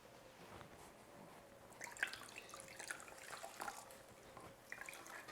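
Spinach squeezed in a towel, releasing water that trickles and drips steadily at close range, with a few brighter splashes.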